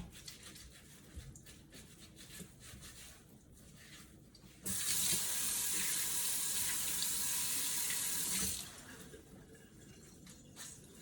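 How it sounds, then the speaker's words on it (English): Potatoes are scrubbed with a towel under a running kitchen tap; the water gushes loudly for about four seconds in the middle, framed by quieter rubbing and handling sounds. "just want to simply take my towel and scrub those potatoes really well"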